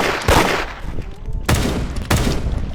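Gunfire in the Roblox game Da Hood: three sharp, loud shots spaced about a second apart, each with a short decaying tail, standing alone over faint background noise.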